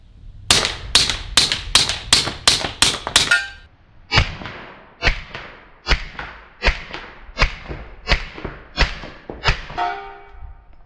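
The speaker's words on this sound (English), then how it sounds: "That same 1911 with a gigantic silencer on it, shooting the same rounds downrange without hearing protection." Suppressed Rock Island 1911 pistol firing .45 ACP rounds with a large silencer, outdoors: a quick string of about eight sharp cracks, then a slower series of eight more evenly spaced muffled shots, loud and close with no talking.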